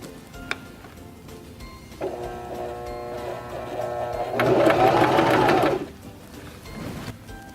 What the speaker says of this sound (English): This will sew the top of your buttonhole, the bar tack.